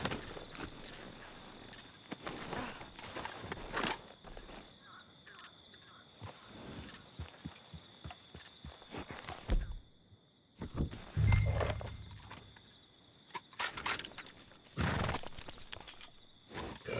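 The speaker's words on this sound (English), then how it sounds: "We'll need to go on a horse." Horse hooves clip-clop steadily in the video game Red Dead Redemption 2, with a brief whinny, crickets chirping in the background and sharp clattering hits near the middle.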